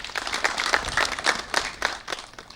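Medical staff at a hospital applaud during a visit by the health minister, a dense run of clapping close by that swells and fades in uneven bursts without pause.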